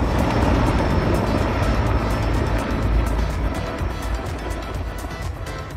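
An Erickson Helitac 734 helicopter of the Country Fire Service runs steadily nearby, its continuous engine and rotor roar fairly loud and even throughout, with no voices over it.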